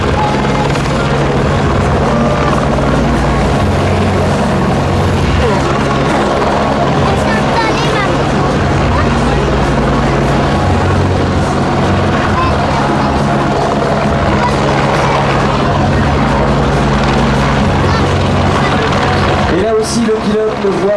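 A rescue helicopter hovers low over water with its winch deployed during an air show at Biscarrosse, its loud, steady rotor and turbine roar running unbroken and close, with a brief shift near the end.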